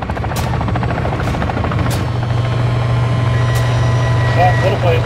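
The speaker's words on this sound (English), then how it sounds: "Oh, little plane. Little helicopter." A small helicopter flies in the video game Warzone 2, its rotor a steady low drone with faint thumping under sharp bursts of game effects and clicks, fairly loud and continuous throughout.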